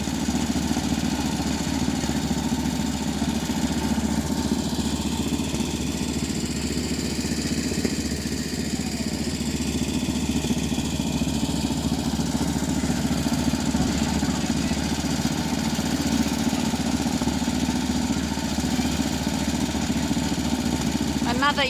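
A motorized railway jigger runs in Wanganui, New Zealand, giving a steady, continuous engine drone with mechanical rumble that holds at an even level for the whole stretch, with no clear voices.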